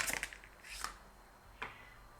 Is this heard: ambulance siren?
no